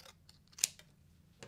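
Scissors snip cardstock, heard close and faint: a few light cuts followed by one sharper crisp snip, then a soft final clip.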